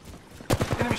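Rapid burst of gunfire in the video game Apex Legends, a sudden loud volley of several quick shots after a quiet moment.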